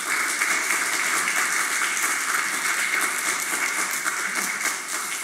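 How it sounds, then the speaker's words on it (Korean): A church congregation applauds to welcome a pastor to the pulpit, steady broadband clapping that holds evenly for several seconds, fairly loud and without voices on top. "나오실 때 열렬한 박수로 환영해 주시기를 부탁드립니다"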